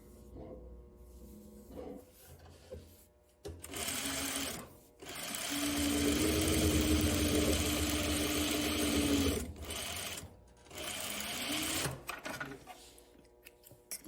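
A sewing machine hems a tie top, starting with a few short stitching bursts, then running in a long, steady whir before stopping and resuming briefly, close and clear, no talk.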